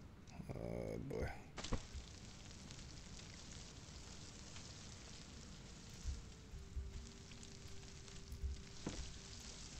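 Food sizzling on a fire pit in the survival game Stranded Deep, a steady soft crackle and fry that runs through after a brief clatter, quiet and unbroken.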